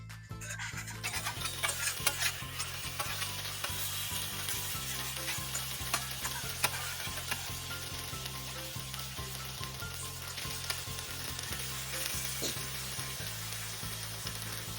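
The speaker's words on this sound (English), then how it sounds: "I'm just going to move this bacon over this hot zone." Bacon sizzles and spits steadily on a hot flat-top griddle, a dense crackling hiss under a low steady hum.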